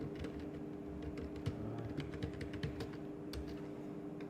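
Steady clicking of keys being typed on a computer keyboard, close and fairly even in rhythm over a low constant hum, with no voices.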